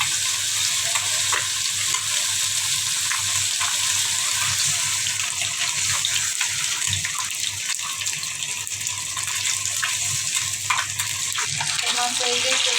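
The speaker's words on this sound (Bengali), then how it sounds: "তরকারিটা তো ভালোভাবে কষাই নিচ্ছে, উপরে তেলটা উঠে আসছে" Tilapia fish curry fries in oil in a pan, making a loud, dense, continuous sizzle with scattered pops and bubbling, close up and with no talk.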